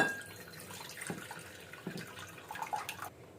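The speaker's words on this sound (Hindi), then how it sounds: "अब मैं इस बाउल में पानी डालूंगी।" Water is poured into a bowl in a home kitchen during dahi bara preparation, a soft splashing trickle with a few brief clinks, fairly quiet and ending abruptly, no one talking.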